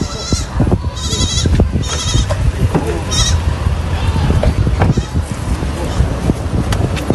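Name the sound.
goat herd bleating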